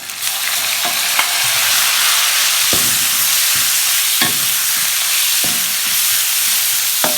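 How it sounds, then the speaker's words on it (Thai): Minced pork sizzles steadily in a hot pan for a Northern Thai pork noodle broth, with a constant frying hiss and several sharp scrapes and stirs of a utensil against the pan. "ใส่หมูบดลงไปเลยนะคะ"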